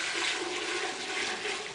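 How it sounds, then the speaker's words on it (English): Fermented wash of about 18 percent, made with turbo yeast, pours into a home ethanol distiller as a short, close, steady gushing splash. "I'll pour that in there."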